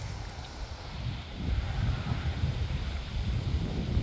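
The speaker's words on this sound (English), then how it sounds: "I'd say it's a little windy today." Wind blowing outdoors on a breezy day, a low rumbling buffet that swells and strengthens partway through, with no voices.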